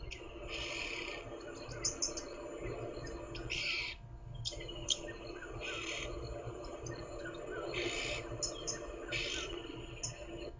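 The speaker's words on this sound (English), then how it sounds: "Oxpecker with a lot to say today." An oxpecker near buffalo on an evening safari drive gives repeated sharp, raspy chirps in short bursts over a low vehicle rumble and outdoor background.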